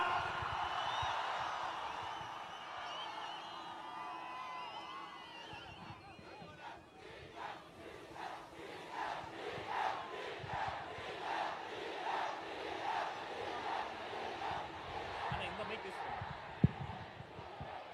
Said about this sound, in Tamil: ஆர்ப்பரிக்கும் கைத்தட்டல் நடுவே இதோ அண்ணன் செங்கோட்டையன்